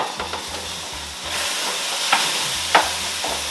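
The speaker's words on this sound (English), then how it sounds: "Alright, stir over here real quick." Food being stirred in a sizzling pan while making a tortilla chicken casserole, with a constant loud frying hiss and repeated scraping strokes of the utensil, no talking.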